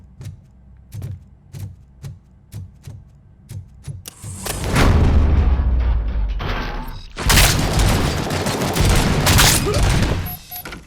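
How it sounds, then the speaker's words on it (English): Gunfire in the video game Robocop: Rogue City: a run of sharp, evenly spaced shots, then two long, loud roaring bursts of heavy fire and booms, close and dominant. "Whoa, sounds like a gunshot."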